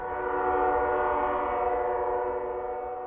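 A Canadian Pacific-led northbound auto train idles at a signal at Erie Junction on the Toledo Sub, its locomotive giving a steady, close, tonal engine drone that fades slightly toward the end.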